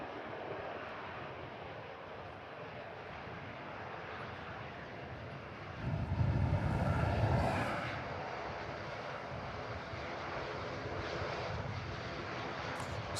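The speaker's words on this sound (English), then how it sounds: "Got 2 Airbus A350s on the taxi out." Airbus A350 airliners taxiing at Manchester Airport, a distant steady jet engine roar that swells briefly louder midway, heard outdoors with broad background rumble.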